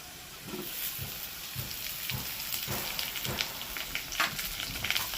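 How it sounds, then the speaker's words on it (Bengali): Onion sizzles and crackles in a hot pan while cooking potato and capsicum omelette, a steady frying hiss with scattered pops and occasional stirring scrapes, moderately close and without talk. "এবার এই পেঁয়াজটাকেও ভালো করে ভেজে নেবো"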